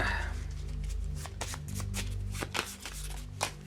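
A deck of cards from the Resident Evil board game being shuffled close by, a quick riffle followed by several soft taps and slides of cards, fairly quiet with no talking.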